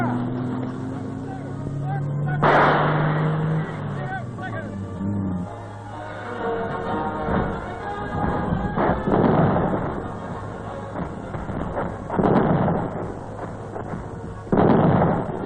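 Royal Australian Artillery field guns firing in a training drill, with several loud broadband blasts in sequence over a steady motor drone, a voice calling fire orders between the shots.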